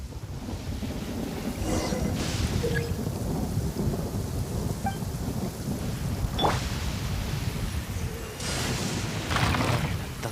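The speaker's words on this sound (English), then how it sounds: "Thunder's so loud." A Genshin Impact thunderstorm: steady heavy rain with low rumbling thunder throughout and a few sharper cracks and bursts, no voices.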